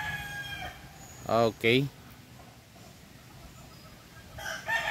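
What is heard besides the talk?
Roundhead Boston mixed sweater gamefowl rooster crowing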